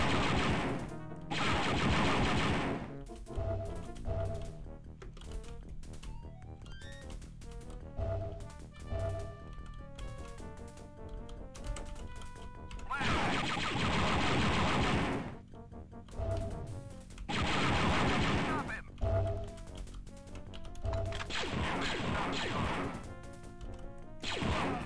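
Pistol shots in the Dark Forces shooter crack out in loud bursts, scattered among blaring explosion-like blasts over a droning game soundtrack with electronic tones.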